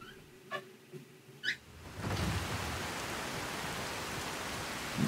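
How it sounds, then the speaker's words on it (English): Cold rain pouring down in Skyrim, first a few sparse drops and a quiet stretch, then a steady broadband hiss of heavy rainfall that sets in after about two seconds and holds to the end, with no talking. "And cold rain continues to pour down."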